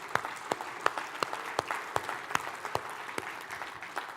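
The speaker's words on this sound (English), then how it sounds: "Let's give Media Productions a round of applause." Audience at a technology awards event gives a round of applause, a thin scatter of claps with distinct sharp hand strikes standing out at a fairly even pace, moderately distant and alone.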